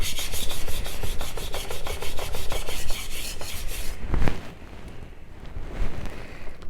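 A Kato kitchen knife is sharpened on a Natsuya whetstone with rhythmic, close scraping strokes in quick regular succession, then slower, softer rubbing passes.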